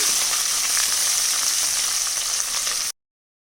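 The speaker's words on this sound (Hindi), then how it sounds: "अब 2 हरी मिर्च को बारीक करके हमने इसको डाला है, फिर भून लेते हैं" Steady, bright sizzling of finely chopped green chillies frying in a hot pan, continuous and close, then abruptly cut off.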